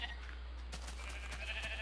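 A sheep in the Minecraft video game bleats, a wavering game-sound cry that starts partway through and stands out clearly over a steady low hum.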